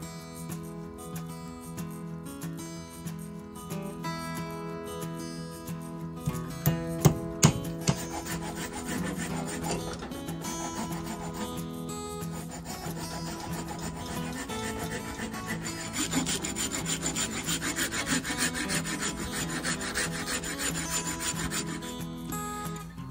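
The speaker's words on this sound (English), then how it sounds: "I done some sanding on it." Filing and sanding on the tapered pins of a handmade wooden knife handle, a steady rasping rub that runs continuously, close and fairly quiet, with a few sharper scrapes partway through and no talk.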